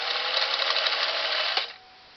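A Singer Model 457 Stylist sewing machine stitches steadily through four layers of denim, a close, continuous mechanical whir for about a second and a half, then stops abruptly with a faint click.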